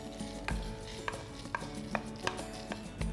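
A spoon or spatula stirs dry red chilies and browned coriander seeds in a pan, giving a soft, regular series of scraping taps and rattles, faint and close, with no talking.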